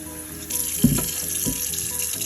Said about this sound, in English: So what we're gonna add to this dough mixture is water.